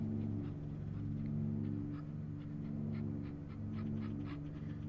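A dog panting in an indie horror video game, with rapid rhythmic breathing and faint whimpers over a steady low engine-like rumble that runs throughout.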